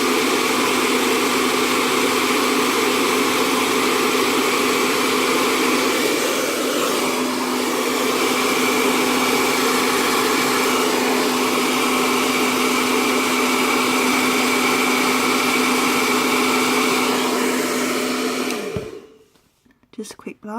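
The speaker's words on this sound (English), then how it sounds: "hairdryer nozzle just on your low setting" Hair dryer on a low cool setting blowing steadily at close range with a constant whirring hum for most of the time, then switching off near the end.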